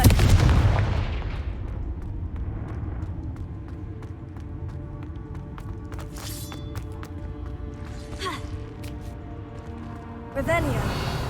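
Blasting spell explosions going off in the video game Hogwarts Legacy, a heavy boom at the start followed by scattered sharp cracks and impacts over a steady background hum, with another burst near the end.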